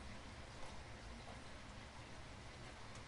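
Steady rain falling at night, a dense even hiss of drops on surfaces with no breaks, fairly quiet and alone.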